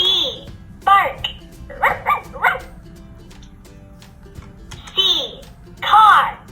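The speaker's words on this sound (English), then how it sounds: "B. Bark." A puppy barks in a series of sharp yaps, two short bursts early and two more near the end, over a quiet musical background in a children's alphabet lesson.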